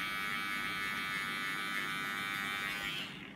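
An electric hair clipper buzzes steadily while cutting hair at a barber's, a continuous close hum that fades out at the very end, with no talking.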